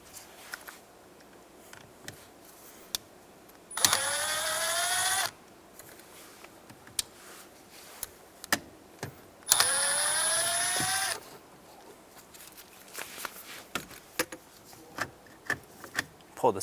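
Two Phillips head screws come out of a 2000-2006 Toyota Tundra combination switch, with two separate bursts of rapid ratcheting whir from a driver amid scattered small clicks and taps of plastic and metal.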